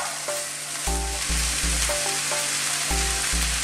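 Bok choy sizzles and crackles steadily as it is stir-fried in a wok for a Chinese vegetable dish, with repeated scraping stir strokes and a low hum underneath; no talk.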